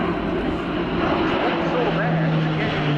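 An Airbus A400M Atlas military transport turboprop flies a display at the RIAT airshow at Fairford, its broad engine drone and propeller hum filling the air beneath a commentator's voice.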